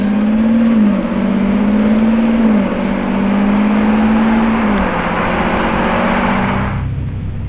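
Orange Lamborghini Revuelto engine running at a steady loud idle hum with slight pitch shifts, close by, cutting off sharply near the end.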